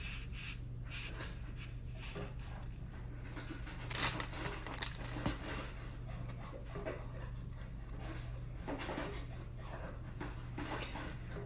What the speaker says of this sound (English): Now my dog decides to eat.